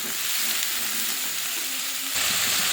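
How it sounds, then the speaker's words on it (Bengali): Ginger with turmeric, chili powder and cumin-coriander powder fries in a pan, giving a loud, steady, close sizzle that swells slightly near the end. "এবারে মশলাটা ভালো করে কষিয়ে নেব"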